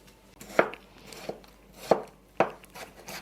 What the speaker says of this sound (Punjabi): ਟਮਾਟਰ ਤਾਂ ਜੇ ਮੋਟੇ ਵੀ ਕੱਟ ਲੈਣਾ